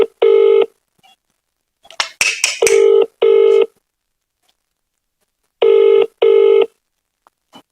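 Telephone keypad tones beep in short bursts, a quick run of clicks between them, as a number is dialed; spaced paired beeps follow, loud and close with silence in between.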